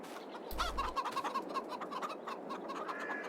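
Chickens in the Farming Simulator 22 game cluck in a string of soft, repeated calls, fairly close and moderately quiet, with no speech over them.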